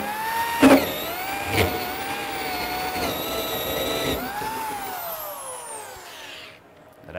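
A power drill spins a large hole saw through the plastic wall of a rain barrel, a loud steady motor whine with shifting pitch and a brief grinding burst early on, winding down toward the end.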